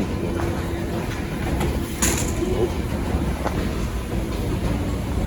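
A train rides through Stockholm toward Zinkensdamm, giving a continuous loud rumble and roar from inside the carriage with a few faint squeaks and clicks over the steady noise.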